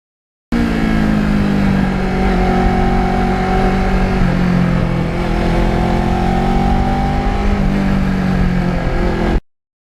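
A 2009 Kawasaki Ninja sport bike's engine hums steadily while riding, its pitch rising and falling gently as the revs shift, loud and close with wind noise throughout.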